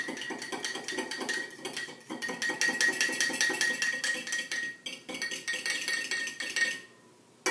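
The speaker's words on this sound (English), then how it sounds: "we're going to just mix all those wet ingredients together at once" Wet dough ingredients are mixed together in a bowl, giving a steady, rhythmic clinking and scraping of a utensil against the bowl. The sound is close and continuous, with no talking.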